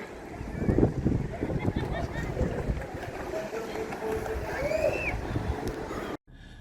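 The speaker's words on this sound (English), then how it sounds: "there is quite a bit of wind in the background as of right now" Steady wind rushes and buffets the microphone on a pier at Honolulu Bay in early spring, a continuous roar with faint water and a few bird calls, cutting off abruptly near the end.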